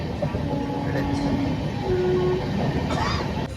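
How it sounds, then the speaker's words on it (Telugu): A Vande Bharat Express passes on the railway tracks at Marripalem beside an industrial area, a loud, close, continuous rumble and rush of wagons with brief tonal squeals throughout. "సో ఇప్పుడు వెళ్ళిన ట్రైన్ వందే భారత్ ఎక్స్ప్రెస్ అంట"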